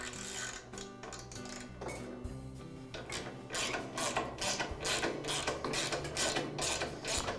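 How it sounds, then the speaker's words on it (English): Screws are driven in with a ratcheting tool to fasten a Weber grill's gas manifold. Fast, faint metallic clicks come in bursts close by, with no talking. "And now secure the manifold with the two screws."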